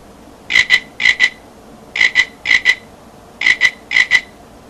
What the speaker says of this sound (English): until after you hear the magical frog chirping 3 times